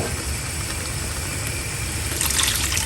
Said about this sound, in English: Now we will add water.